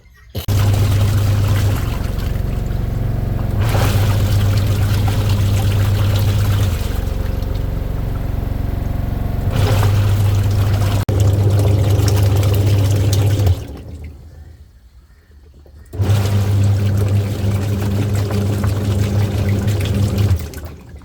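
Washed wild phak wan seeds tumble in a spinning machine, producing a loud, steady watery churning with a low motor hum, which stops briefly and then starts up again.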